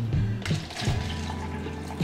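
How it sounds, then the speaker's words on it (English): Hot water splashes and gurgles as it is poured into a jar, close by, with a steady liquid rush and a few louder glugs. "Pour in some hot water."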